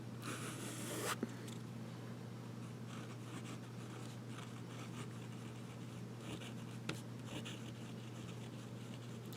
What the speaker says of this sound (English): Nice and wet. Reverse writing.